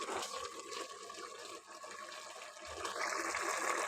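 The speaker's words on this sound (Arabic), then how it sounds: "نكب عليها الماء نخليها طيب" Water pours steadily from a tap into a cooking pot during Moroccan home cooking, a broad rushing wash that grows fuller and louder toward the end, close by with no talk.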